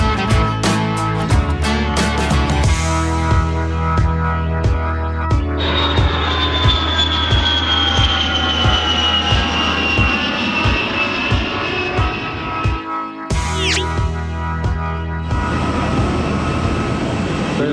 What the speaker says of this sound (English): And we are now getting on plane.